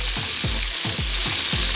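Birria taco meat fries in a hot pan with a loud, continuous crackling sizzle, punctuated by about five rhythmic low scraping strokes as it is moved around, with no voices.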